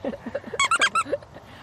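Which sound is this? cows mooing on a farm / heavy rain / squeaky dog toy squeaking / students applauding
squeaky dog toy squeaking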